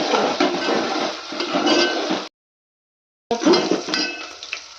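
Curry leaves being stirred through a simmering curry in a pan, a steady scraping and sizzling clatter that breaks off for about a second before the stirring resumes, close and fairly loud.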